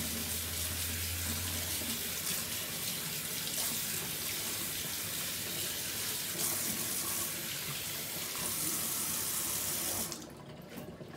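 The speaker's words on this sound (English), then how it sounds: "I'm just gonna rinse my hands off." Hands being rinsed under a running tap, with a steady, fairly close rush of water for about ten seconds before it is shut off.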